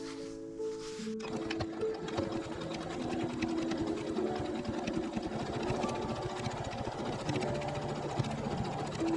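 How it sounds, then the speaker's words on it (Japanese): A sewing machine stitches a 1 cm seam through bag fabric placed right sides together. It starts after a brief moment and then runs at a steady, loud, continuous whir to the end. "中表に合わせて、こちらが上になっているので1センチで縫います。"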